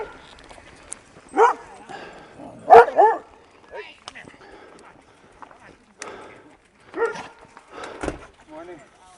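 A dog barks a few times on a hiking trail in Bear Canyon, the sharp barks close by and mixed with people talking and footsteps.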